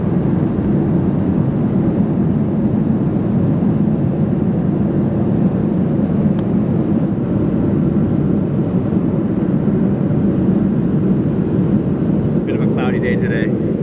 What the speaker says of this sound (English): That was a beautiful takeoff though.